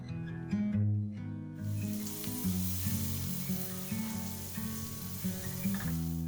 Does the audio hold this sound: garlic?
yes